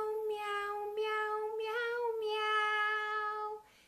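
A human voice imitates a cat, singing a string of long, drawn-out meows one after another, clear and close with no other sound around it.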